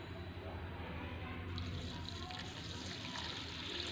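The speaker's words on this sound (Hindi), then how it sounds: "तो इसी बर्तन में हम थोड़ा पानी डालेंगे" Water poured into a kitchen vessel holding flaxseed for washing, a soft continuous trickle and slosh heard faintly at a low level throughout.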